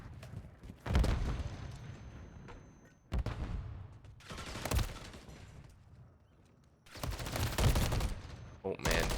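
Bursts of rapid gunfire in a Call of Duty tournament championship match, several loud volleys separated by short quieter gaps, with a commentator talking between them.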